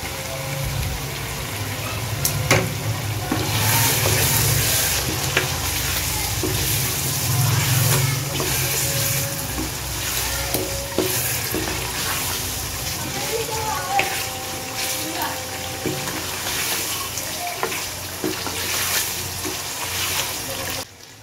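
Beef karahi sizzling and being stirred in a pan as a little yogurt is added, a continuous loud bubbling fry with scraping, under someone talking.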